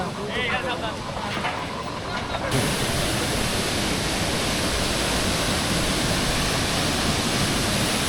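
Waterfall water rushing near Nafakhum in Bandarban, a loud, steady broadband roar that swells up close after a quieter opening stretch, with no break throughout.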